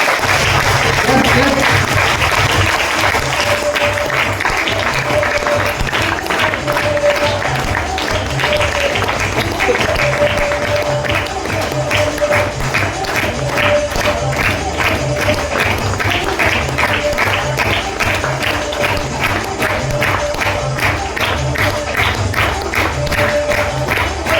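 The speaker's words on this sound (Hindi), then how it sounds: "मिस्टर सुशील दीक्षित जी, आपकी जोरदार तालियां।" An RCM gathering audience, standing to honour guest Mr. Sushil Dixit, gives loud, sustained applause that settles into a rhythmic, unified clapping beat as it goes on.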